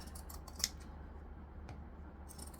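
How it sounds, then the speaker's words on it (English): Zigzag pinking scissors cutting fabric along a curve: a few faint, crisp snips spaced apart in a quiet room. "You don't have to use zigzag scissors, but because it's a curve, it will help you to do so."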